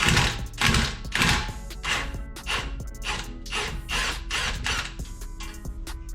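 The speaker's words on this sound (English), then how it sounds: "I'm able to get an impact socket on this, because there's no way I'm breaking those free with a wrench" An impact wrench fitted with an impact socket hammers bolts loose on a Mk4 GTI, firing in repeated loud rattling bursts separated by short pauses, close and harsh in a garage.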